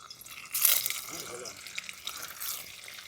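Small pieces of paneer fry in hot white oil with a soft, steady hiss and light bubbling while a voice talks over it.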